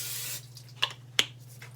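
Cooking spray hisses onto a frying pan in a short burst, followed by two sharp clicks over a steady low electrical hum.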